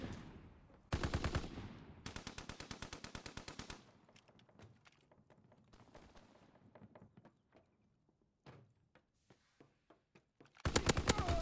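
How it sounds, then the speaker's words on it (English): Call of Duty: WWII cannon fire in loud rapid volleys, separated by quieter stretches of scattered distant shots. "Somebody's on this cannon, right?"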